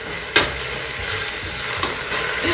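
Escarole sizzling and frying in a pan, stirred with a steady scraping hiss and two sharp utensil knocks, with no talking over it.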